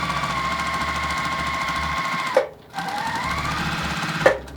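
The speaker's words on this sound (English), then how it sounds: "we're gonna sew this thing all the way up" A sewing machine stitches quilt rows together for a large windmill quilt, running at a fast steady rattle with two brief stops before picking up again.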